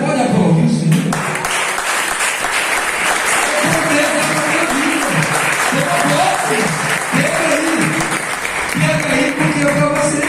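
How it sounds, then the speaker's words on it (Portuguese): A church congregation applauding during a sermon, loud sustained clapping that fills the room while a voice speaks over it through most of the stretch. "Você pode aplaudir o Senhor?"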